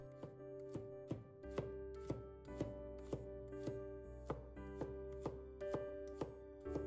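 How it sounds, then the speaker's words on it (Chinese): A kitchen knife slices a handful of garlic cloves on a cutting board: a close, quiet series of about fourteen crisp, evenly spaced chops in a steady rhythm, with nothing else heard. "跟着准备一把大蒜，把大蒜切片，"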